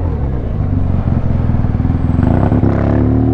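BMW R1200 motorcycle ridden on the road, its loud close engine rumble with harmonic revving, shifting pitch as it slows under hard braking, with clattering and a brief scrape partway through.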